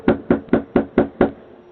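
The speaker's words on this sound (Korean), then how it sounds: "작업복을 입은 한 남자가 집에 찾아와 문을 두드리는데" A man in work clothes knocks on a home's front door, caught on a doorway CCTV camera: six firm, evenly spaced raps in a steady rhythm, close and loud, with no voices.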